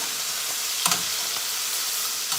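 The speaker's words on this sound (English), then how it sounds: "I'm gonna let it sear just a little longer here" A beef roast sears in a hot pan with a steady, close broadband sizzle and crackle, holding level throughout with a couple of brief louder spits.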